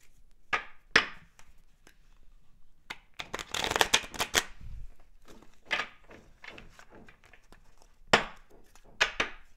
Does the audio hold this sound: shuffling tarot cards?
yes